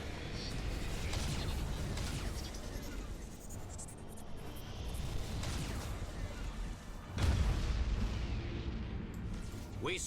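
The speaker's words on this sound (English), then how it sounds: "Okay, Nova Cannon burst number 2." A Nova Cannon fires a burst in the space strategy game Battlefleet Gothic Armada 2, a heavy, booming blast that swells out of a dense, rumbling battle din and carries on loud through the rest.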